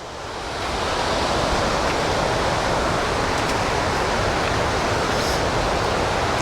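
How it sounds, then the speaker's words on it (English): Sgwd yr Eira waterfall in the Brecon Beacons woodland, three curtains of water dropping 30 to 40 feet, a dense steady roar that swells in over the first second and then holds loud and unbroken, with no voices. "3 nice curtains of water dropping about 30 to 40 feet"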